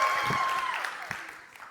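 An audience in a hall cheers and applauds for Android phones, a broad steady wash of clapping and cheering voices that tapers slightly over a couple of seconds.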